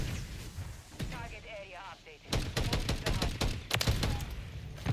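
Rapid bursts of automatic gunfire in a Call of Duty multiplayer match, loud and dense in the second half, with a voice talking briefly before the shooting picks up.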